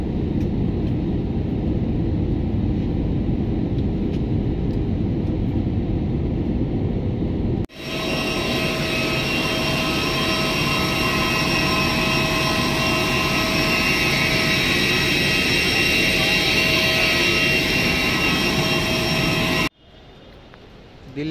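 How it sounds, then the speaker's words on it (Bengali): Passenger jet landing in Delhi at night, a loud, steady roar of engines and cabin rumble heard from inside, with an abrupt shift to a brighter whining tone partway through and a sudden drop near the end. "দিল্লিতে ল্যান্ড করছি দিল্লি রাতের শহর"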